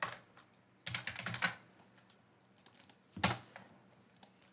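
Typing on a computer keyboard during Maya and Python scripting work, quiet close key clatter in two short bursts of rapid taps separated by pauses, with a few isolated keystrokes near the end.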